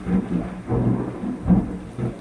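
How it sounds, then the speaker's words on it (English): A strong thunderstorm with repeated deep rumbling thunder rolls, roughly three swells, over a steady wash of rain; loud and close, with no voices. "I caught the strongest storm ever."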